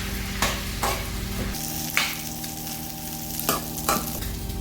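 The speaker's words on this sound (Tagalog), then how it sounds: "Haluin lang natin ulit." Tomatoes frying in a pan for sarciadong isda, a close steady sizzle broken by a few sharp scrapes and clicks of stirring.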